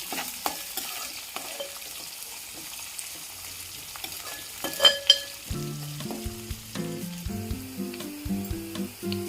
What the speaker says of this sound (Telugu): కరివేపాకు, చిన్న ముక్కలుగా కట్ చేసుకున్న ఒక ఆనియన్, ఒకసారి తిప్పుకోవాలి.